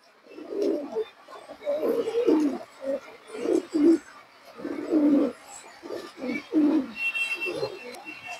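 A pair of Bezi breed pigeons coo repeatedly in close, soft rhythmic bursts with short pauses between, the throaty calls clear against a quiet background.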